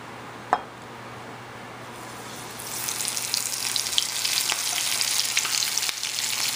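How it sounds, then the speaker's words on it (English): Flour-dusted shrimp tempura hits a shallow pan of oil, a sharp drop followed by a steady, close sizzle of frying that rises and holds. "I took very little oil because I know that I'm not going to do this all the time"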